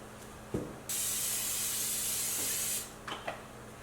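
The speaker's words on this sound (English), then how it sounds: "I just did a spray, cooking spray" Cooking spray hisses onto a pizza pan in one steady burst of about two seconds, close and fairly loud, with brief clicks of the can before and after in a quiet kitchen while a vegan buffalo cauliflower pizza is prepared.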